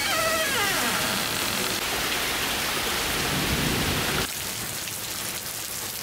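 Steady rain pours down in a constant hiss, loud and close for about four seconds, then drops to a softer, lighter patter; a low rumble like distant thunder sits beneath the downpour.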